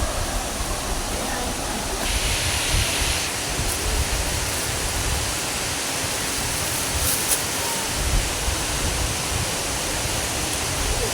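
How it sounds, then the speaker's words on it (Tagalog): Rushing water of Buruwisan Falls, a steady, dense broadband roar that stays loud and unbroken throughout, with no voices over it. "naririnig na rin po ba ang lagaslas ng tubig?"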